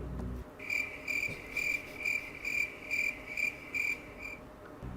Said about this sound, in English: So, editor, you can put that cricket sound there.